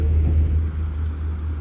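A motorcycle engine runs steadily at a shop, giving a continuous low rumble that stays close and fairly loud throughout, with no voices over it.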